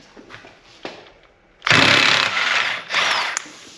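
A Snap-On half-inch impact wrench works a car axle nut during a rear axle rebuild on a 1999 Mercedes C43 AMG W202, a loud close buzzing hammer burst lasting about two seconds after faint shop noise.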